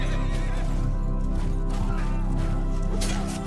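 Horses in the Mount and Blade 2 Bannerlord video game, on a Lord of the Rings mod battlefield, whinny loudly and repeatedly amid hoof clatter and constant battle noise.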